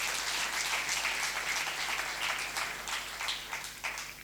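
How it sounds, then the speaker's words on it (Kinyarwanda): A church congregation claps during a sermon, producing a sustained, fairly even patter of applause that tapers slightly toward the end, with no voices over it. "Komera Yesu amashyi niba ubyumvise."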